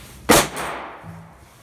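Sharp single bang from a Quake impact airsoft grenade primer firing when dropped, a close, loud crack that decays quickly into a short tail, with no talking.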